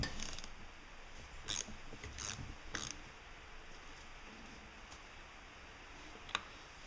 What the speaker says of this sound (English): two big bolts going there, just going to do them up tight.